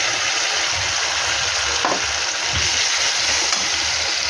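Ground onion and chili paste frying with garlic in a pan makes a dense, continuous sizzle, close and loud, with a few soft stirring scrapes.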